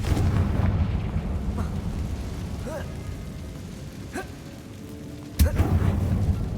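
In the Hogwarts Legacy video game, a Confringo blasting spell goes off as a single sudden, heavy explosion burst near the end, following a stretch of low ambient rumble and faint game sounds.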